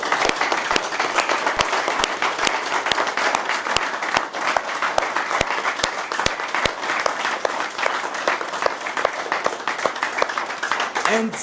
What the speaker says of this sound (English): That's your applause. All your fans.